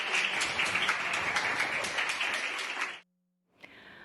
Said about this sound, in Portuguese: Hoje ele recebeu alta sob aplausos da equipe médica.